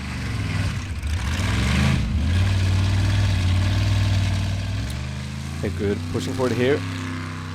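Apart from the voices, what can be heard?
off-road race car engine running unhealthily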